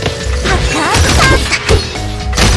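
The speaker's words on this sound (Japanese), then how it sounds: "爆発" A dense, loud burst of crashing and smashing noise from a Honkai Impact 3rd battle, with layered impacts, sweeping effects and brief tonal flourishes packed into a couple of seconds.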